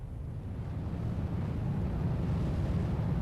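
Rocket engines at full throttle on launch in the game SimpleRockets 2 give a steady, heavy low roar, loud and continuous with no break, and no voices over it.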